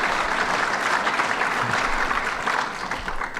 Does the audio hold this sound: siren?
no